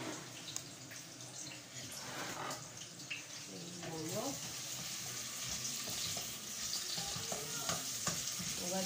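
Onions sauté in a pan as the first step of a dried-caterpillar (mbinzo) recipe, with a continuous close sizzle, crackle and stirring scrapes. A voice is faintly present at times.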